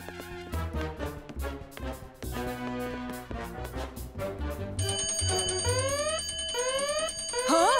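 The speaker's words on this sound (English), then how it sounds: "It's probably just a fire alarm test." A fire alarm bell rings in an animated children's adventure show, a bright electronic ringing layered over busy music and rising tones, holding steady and loud throughout.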